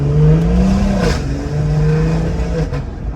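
BMW 340i accelerating on a road while held back by low tire pressure; a steady engine drone rises and holds for a few seconds with no talking.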